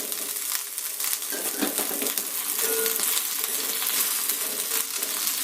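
Thuthuvalai and musumusukkai leaves sautéing in a pan for a medicinal rasam give a steady, close hiss and crackle of frying with scattered small pops and stirring scrapes, continuous throughout with no talking.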